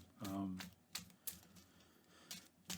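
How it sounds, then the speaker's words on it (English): Sleeved playing cards for the Marvel Champions card game are rifle shuffled up close: a quick riffling flutter at the start, then several sharp taps and snaps as the deck is squared, with the bursts coming in irregular spurts. "I randomize by rifle shuffling as well"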